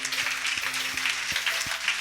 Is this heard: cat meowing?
no